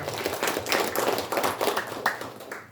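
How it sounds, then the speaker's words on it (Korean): A small audience at a formal launch ceremony claps, uneven hand claps forming brief, moderate applause without cheering. "지속 가능한 광산을 만드는데 노력하고 계시는 박병규 청장님께 다시 한번 큰 박수 부탁드립니다"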